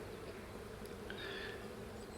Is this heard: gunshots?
no